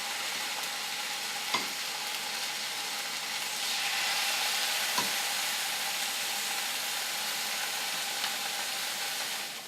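Teriyaki-marinated turkey pieces frying in an oiled skillet, a loud, even sizzle running throughout, swelling slightly midway, with a couple of faint taps as pieces are placed or moved.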